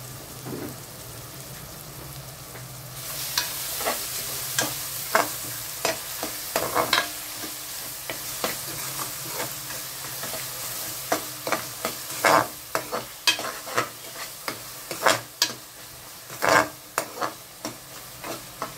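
Keema mixed with turmeric fries in a pan, a low sizzle broken by repeated sharp scrapes and knocks of a spoon stirring, the strokes growing more frequent and louder after the first few seconds.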